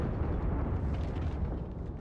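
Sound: tank gun shot explosion in a tank video game

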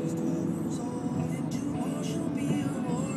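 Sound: sports car driving by

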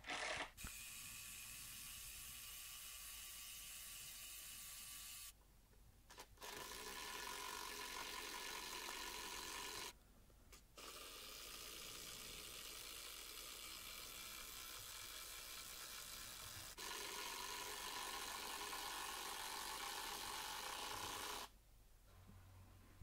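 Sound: impact driver driving coach bolts into a wooden sleeper

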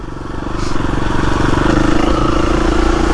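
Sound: motorcycle engine running

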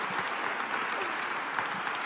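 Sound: audience applause for Ronaldinho

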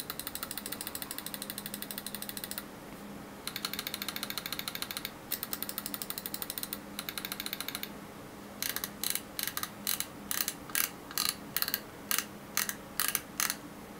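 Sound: computer mouse switch clicks

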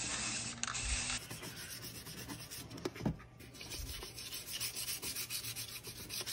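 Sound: light sanding of primed armor build

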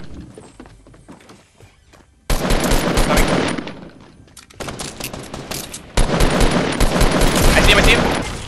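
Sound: gunfire in the video game Fortnite

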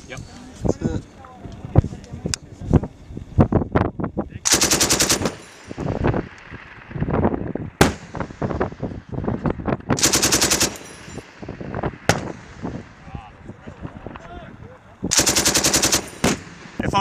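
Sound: machine gun fire on Taliban position

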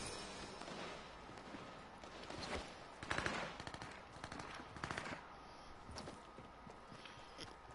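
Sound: gunfire in Fortnite video game

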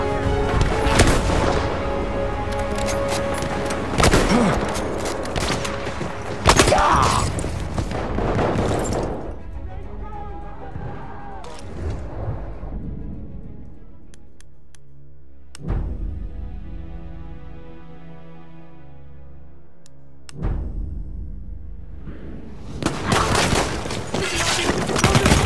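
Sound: artillery strike explosions in video game Battlefield 1

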